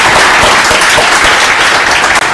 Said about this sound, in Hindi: एक बार तो मैं चाहती हूँ कि पहले आप लोग अपने लिए एक बार जोरदार तालियां बजाएं.